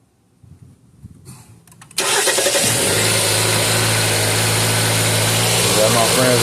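A 2020 Jeep Cherokee 2.4 liter MultiAir engine cranks briefly after a starter replacement, then catches and settles into a loud, steady close idle, with a voice over the start.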